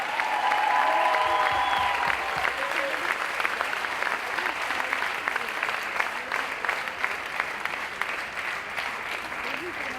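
Audience applause with some cheering for Med, a technician at a 2017 dance show, steady dense clapping throughout, loud and close, with a brief whistle-like tone near the start.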